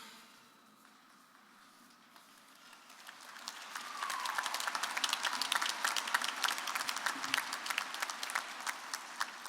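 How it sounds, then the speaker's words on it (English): A graduation audience breaks into applause, the clapping swelling from quiet to a dense, sustained roar of many hands that fills the hall. "You guys are clapping."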